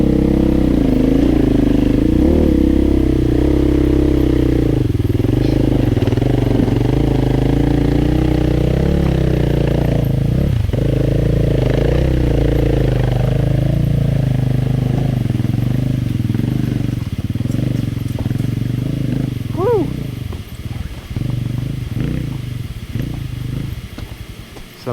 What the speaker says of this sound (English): here comes Grandpa on his KTM 500. He's the only 4-stroke in the bunch.